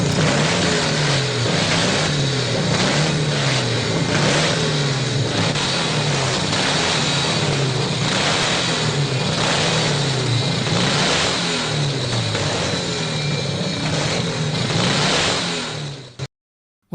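A 1930-era Douglas motorcycle engine revs in steady rising and falling surges, loud and close throughout with no voices.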